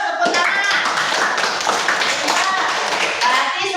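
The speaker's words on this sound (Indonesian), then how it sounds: "Bagus, tepuk tangan." Schoolchildren in a classroom clap their hands together, fast, uneven, overlapping claps close by, mixed with some voices and shuffling as the group applauds for several seconds.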